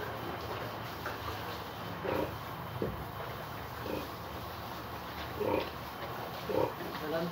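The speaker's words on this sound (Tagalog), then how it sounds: "Bale, anak ng mga baboy ko to." Pigs at feeding time on a small farm, with several short grunts and snorts rising at intervals over a low, busy background; a voice is heard faintly at times.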